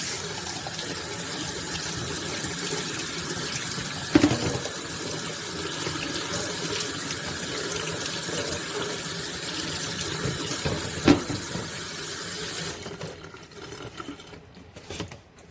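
Running tap water pours steadily over a raw beef tongue in a kitchen sink, a loud continuous gushing hiss with a couple of sharp knocks, then cuts off near the end leaving quieter rustling.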